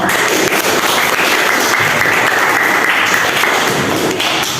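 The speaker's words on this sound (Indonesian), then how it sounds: "Berikan tepukan buat kita semua." A class of students claps together in a classroom, a steady dense wash of hands held at an even level for several seconds without a break.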